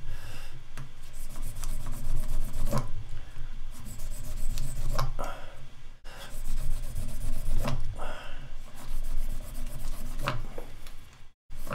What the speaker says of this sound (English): Keep sanding, keep buffing.